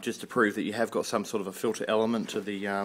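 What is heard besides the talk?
No everyday noises stand out.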